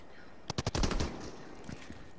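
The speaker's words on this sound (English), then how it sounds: "Oh, yep, I'm getting shot at too." Rapid bursts of Fortnite gunfire crack close by, a quick string of sharp shots followed by a rattling volley that fades into lighter scattered pops, with no talk over it.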